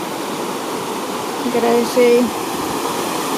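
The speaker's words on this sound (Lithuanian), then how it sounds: "O čia garsas yra upės." A river in Indian Canyons, Palm Springs, California, rushes steadily nearby, a constant wash of flowing water, with a person speaking briefly over it.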